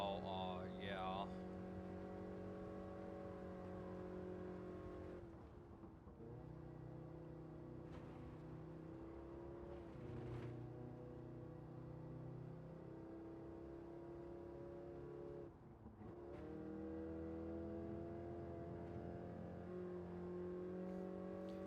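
Van engine in the Gran Turismo 7 racing game, a continuous droning rev that rises and falls through gear changes throughout, steady and moderately loud.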